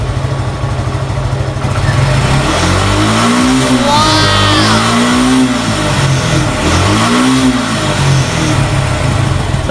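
A Suzuki Gixxer motorcycle engine revved from idle up toward 8,000 RPM, a loud close mechanical drone that climbs and falls in pitch over a few repeated throttle blips, running alone without talk.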